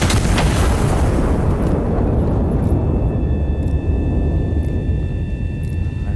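Heavy turret shell firing in the game Iron Nest: a loud deep blast at the start rolling into a long rumbling decay, with faint mechanical tones lingering afterward.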